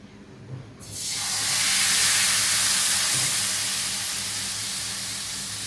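Ghavan rice batter hits a hot pan and sizzles into a loud, sudden, sustained hiss that fades only slightly, close up, with no voices.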